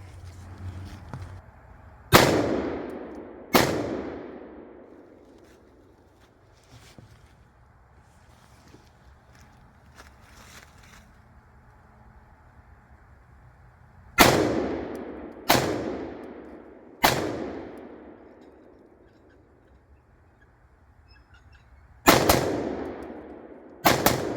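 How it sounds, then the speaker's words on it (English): Sharp gunshots from an ACI-15 rifle in 5.56 NATO fired outdoors at a range, heard as two quick shots, then a cluster of three, then two more, each loud and alone with a decaying echo. "we're just going to do some quick shooting here"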